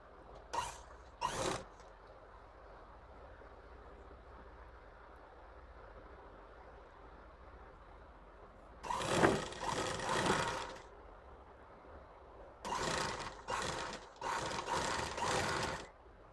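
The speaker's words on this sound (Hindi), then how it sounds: "एक जैसे ही दोनों मोहरी को हम सिलाई कर लेते हैं।" A sewing machine stitches the folded hems of a pair of men's pajamas, running in short rattling bursts: two quick taps, then longer whirring runs separated by pauses, close by with no talking.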